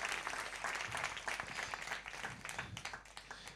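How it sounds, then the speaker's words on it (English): Congregation applause in a church service after a prayer, a full, steady roar of many hands clapping with some cheering mixed in, rising and fading slightly over a few seconds. "Come on, give a round of applause to God."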